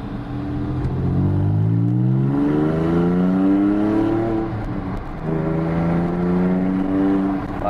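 A Porsche 911 fitted with a new stainless steel exhaust accelerates from a start with the window open, engine note climbing loudly through the gears in rising harmonic sweeps, with a brief dip around a shift.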